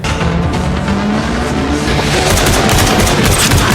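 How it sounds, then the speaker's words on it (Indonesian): Rapid bursts of gunfire ring out continuously, dense and loud, layered with booming impacts and a rumbling action backdrop, from a gunfight scene in the action film King of Killers (2023). "Beberapa tembakan mengenai Drakos tapi belum cukup untuk menumbangkannya"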